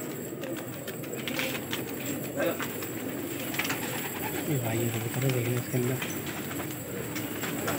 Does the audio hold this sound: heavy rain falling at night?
no